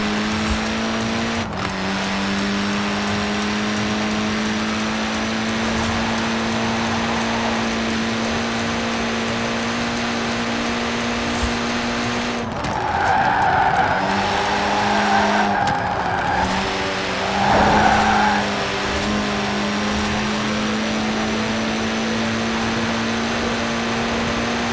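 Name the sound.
Mini Cooper S car driving in video game Forza Horizon 4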